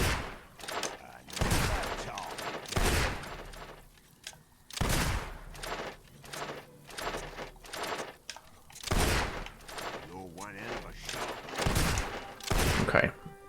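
Gunshots in the video game Fable 2: a string of sharp, separate reports, single and in short bursts, with gaps between them and some speech-like sound in between.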